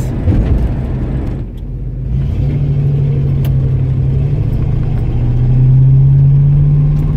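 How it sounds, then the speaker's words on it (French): A 1969 Ford Mustang with a 351ci V8 and a three-speed FMX automatic pulls away on the road near Nice, its loud, close engine drone rising steadily in pitch as it accelerates, with no talk over it. "Et elle part très bien cette Mustang"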